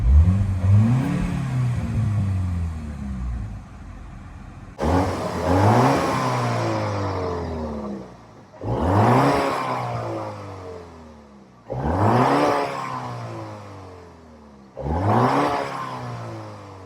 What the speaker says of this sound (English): It's a good sounding engine.